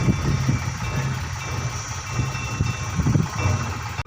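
A tractor engine runs steadily nearby in a village street, a low rumbling idle with a faint continuous high whine, holding level throughout with no speech.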